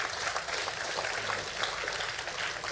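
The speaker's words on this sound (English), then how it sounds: "Thank you for applauding what Bill just said" Audience applause at a live public conversation between intelligence chiefs, steady dense clapping that fills the whole stretch at an even, moderate level with no voices on top.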